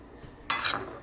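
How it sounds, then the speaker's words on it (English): A utensil scrapes and clinks briefly through a pan of chanterelle mushrooms with olive oil, salt and garlic for crostini topping, a short close stir that starts abruptly after near silence. "Give it a good stir."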